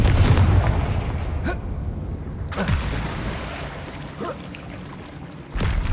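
A Confringo blasting spell explodes in a Harry Potter video game, giving a loud, rumbling blast with several sharp cracks and booms over a continuous low roar.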